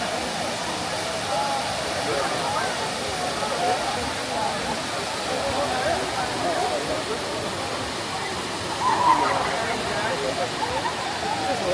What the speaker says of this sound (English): The walk leads to Waimea Falls